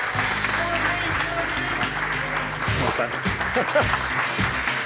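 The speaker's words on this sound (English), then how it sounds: "we're going to give him the biggest rock star applause" Audience applause welcoming a Startup Grind Barcelona speaker, a co-founder, to the stage: a steady, dense wash of clapping running throughout, with voices and other sounds mixed underneath.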